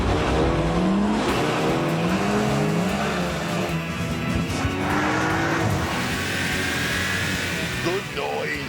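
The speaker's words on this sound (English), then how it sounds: "I then line them up for a simple straight-line drag race." A BMW 1 Series and a Golf GTI launch in a straight-line drag race, engines roaring and climbing in pitch under a loud, steady rush of noise.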